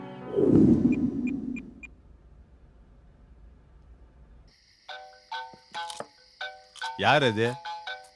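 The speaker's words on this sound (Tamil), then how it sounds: "இந்த நேரத்துல ஃபோன் பண்றது?" A phone rings late at night with short repeated electronic tones, then gives way to a louder melodic ringtone sequence, with people talking over the start and in between.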